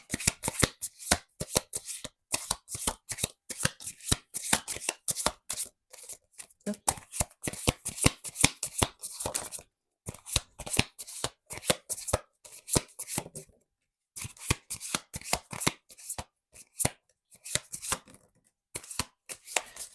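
Self-care cards shuffled by hand in repeated quick bursts of crisp riffling and slapping, close and clear, with short pauses between rounds and a voice talking at times.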